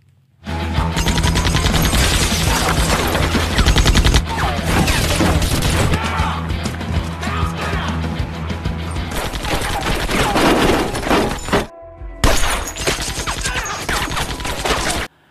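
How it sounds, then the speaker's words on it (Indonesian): Two gunmen fire on a police station in the film American Ultra: loud, rapid bursts of automatic gunfire mixed with smashing crashes roar on almost without pause, broken by one brief silence near the end. "kedua aset ini pun langsung menembak sebuah kantor polisi yang di dalamnya terdapat Mike dan Bibi"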